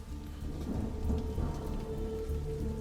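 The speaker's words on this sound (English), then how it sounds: "Yeah, it's raining, bruh." Rain pours steadily and thunder rumbles low in a Star Wars: The Clone Wars episode, a close, continuous storm bed with no voices.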